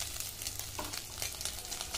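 Pieces of fish frying in hot oil as they finish browning, a steady close sizzle and crackle with light stirring, no voices.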